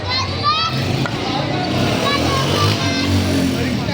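Children play a cricket match outdoors, their distant shouts and chatter mixing with steady traffic and motorcycle noise, while someone speaks nearby.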